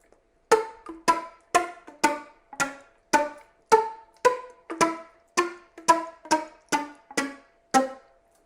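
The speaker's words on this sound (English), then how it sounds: "So you're actually slapping the tongue on the back of the teeth and you're just making a more percussive effect." Flute slap tonguing, the tongue slapped against the back of the teeth: a steady series of about sixteen short, percussive pops with a hollow pitched knock, evenly spaced and close, alone without any voice.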